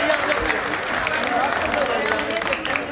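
An audience at a Jain Panchkalyanak religious ceremony claps in a continuous wash of applause mixed with crowd noise and voices.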